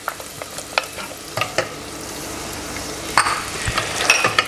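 Onions and garlic sizzling in a pan over low heat for a risotto with Italian sausages and radicchio, a soft continuous sizzle broken by several stirring scrapes and clicks, heard up close.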